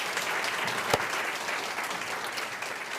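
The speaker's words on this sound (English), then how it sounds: "another round of applause for our co-chairs" Audience applause for the co-chairs at a spring town hall, a steady wash of clapping from a crowd lasting throughout, with one sharper clap standing out near the start.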